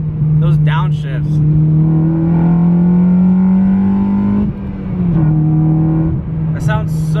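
A 2014 Honda Civic Si with a K-series engine and a good intake hums loud and close while driving, its pitch rising and falling through downshifts, with short bursts of revving at the start and end.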